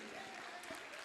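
Applause from the audience at a mushaira poetry gathering, a steady dense patter of clapping sustained throughout with no break.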